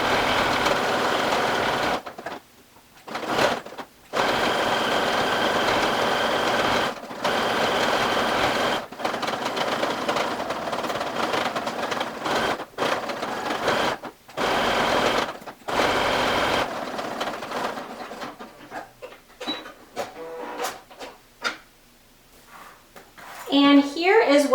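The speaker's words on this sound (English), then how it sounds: "take this over to your sewing machine and stitch that collar piece on" Sewing machine running a stretch stitch to attach a collar piece on a half-zip pullover, a steady close motor whir in long runs broken by short stops, fading into softer handling noises and a voice near the end.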